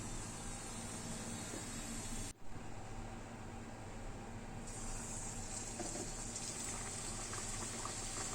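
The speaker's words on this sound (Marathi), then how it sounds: "आता ह्या झाकून ठेवलेल्या कचोरी तळायला लागते" Pea-stuffed kachori deep-fry in hot oil with a dense, steady crackling sizzle that drops away for a moment, then picks up again.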